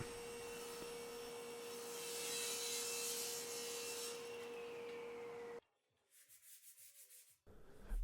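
Hand sanding a rounded solid mahogany face frame with 150 grit sandpaper, a steady rough back-and-forth rasp running for over five seconds, then a few quieter strokes after a pause.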